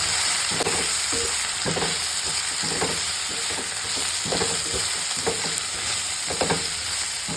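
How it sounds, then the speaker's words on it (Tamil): Chilli powder and salt sizzle and fry lightly in hot oil for a tamarind curry, a steady close crackle broken by repeated scrapes and stirs of a spoon against the pan. "இதுக்கப்புறம் இதை ஒரு தடவை இப்படி எண்ணெயில் லைட்டாக வதக்கிடுங்க"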